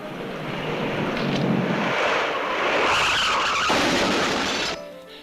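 A car brakes hard and its tyres skid with a long, loud broadband screech that swells and then cuts off abruptly.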